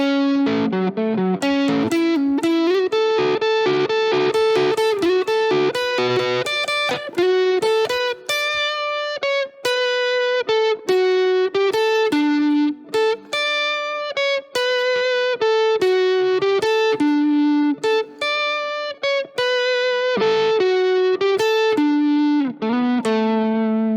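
Clean electric guitar plays the third section of a song, a continuous flowing melodic line of picked notes and slides with a few short pauses, loud and close.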